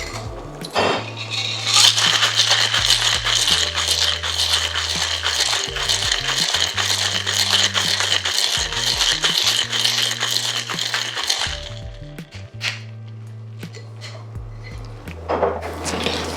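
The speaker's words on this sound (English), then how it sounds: "We're going to shake that vigorously." Cocktail shaker with lemon, sugar syrup and ice shaken vigorously, a loud, fast rhythmic rattling of ice in bursts, pausing briefly before resuming, close up with no talking.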